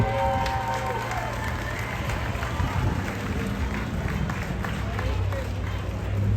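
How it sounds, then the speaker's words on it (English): Crowd applause at a county fair truck pull, clapping and cheering from the grandstand under a steady engine drone and an announcer's voice, continuous throughout. "Let's give him a big round of applause"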